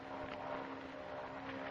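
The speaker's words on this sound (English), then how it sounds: "That's a plane." A propeller airplane engine approaching as a vintage radio drama sound effect: a steady low droning hum with a constant tone, fairly faint and continuous, no voices over it.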